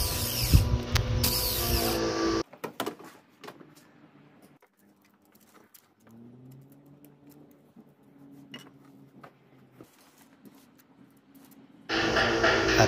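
A hand ratchet works on the cylinder head bolts of a Toyota 2AZ 2.4L Camry engine, giving quiet clicking and occasional clanks, with louder bursts of mechanical noise at the start and end.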